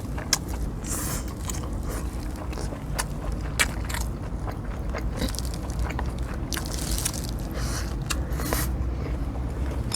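Close-up eating of braised whole pork belly with kimchi, with moist chewing, crunchy bites and soft smacking in a steady, irregular rhythm and no talking.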